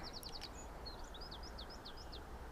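Quick high chirps and short whistled bird calls repeat against a steady low rumble of background noise, fairly distant and faint.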